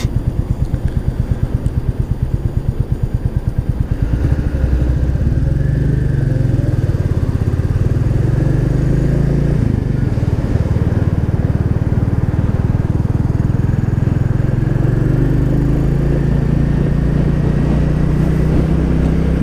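Royal Enfield Classic 350 single-cylinder motorcycle riding through town, a steady close engine drone throughout with rising and falling pitch as it shifts and accelerates, no talk over it.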